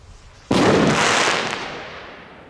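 A firecracker-type rocket from a 2020 Dum Bum batch, tested outdoors, bursts with a single loud, sharp bang that then trails off into a long fading crackle and rumble.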